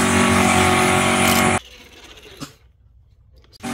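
Hot Wheels diecast toy cars race down a track, a loud rushing rattle of wheels for about a second and a half that then drops away to faint clicks and knocks.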